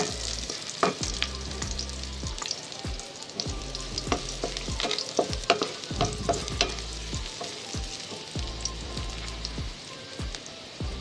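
Onions frying in a pan for rellenong bangus, a dense crackling sizzle with repeated spatula knocks and scrapes throughout, close and fairly loud.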